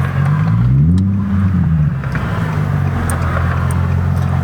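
A Nissan 350Z Nismo on a test drive after a transmission and differential fluid change, its engine droning loud and close from inside the car, with the pitch rising and falling through a gear change before settling into a steady hum.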